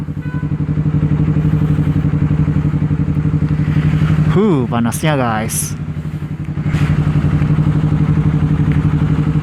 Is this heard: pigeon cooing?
no